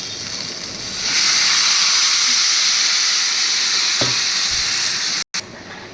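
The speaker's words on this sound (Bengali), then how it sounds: "এবার এর মধ্যে আমি দিয়ে দিচ্ছি জল।" Water poured into a hot pan of spiced potato curry sets off a sudden surge of steamy hissing and sizzling that holds steady and close, with a light utensil knock and a brief cut near the end.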